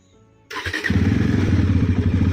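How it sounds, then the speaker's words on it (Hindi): A motorcycle cold-starts after a rainy night, with a sharp cranking catch followed by a close, loud, steady thumping idle. "बाइक को अपना कोल्ड स्टार्ट कर लेते हैं।"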